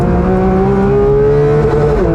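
Porsche 911 GT3 (992 generation) on its original exhaust, engine revving loud and close with a steady rising wail that holds high before easing slightly near the end.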